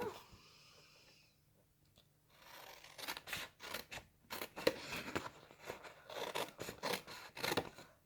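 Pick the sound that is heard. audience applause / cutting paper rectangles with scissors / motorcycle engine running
cutting paper rectangles with scissors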